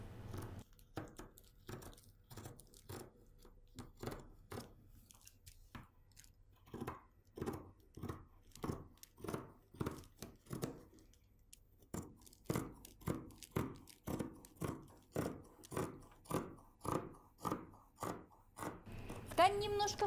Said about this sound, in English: I can start cutting the sleeves now